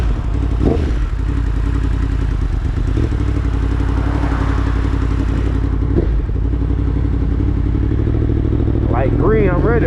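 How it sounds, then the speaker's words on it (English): A 2021 Yamaha MT-10 motorcycle on a test ride gives a loud, continuous engine drone that rises and falls with throttle, while a rider talks over it throughout. "So if you actually decide to hit the gas a little bit, be prepared, it's gonna throw you back a little bit."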